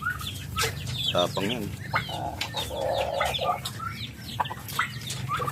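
Chickens clucking at a backyard feeding of farm poultry, with turkeys and ducks also kept: several close, choppy clucks and short calls scattered throughout, with a person speaking briefly.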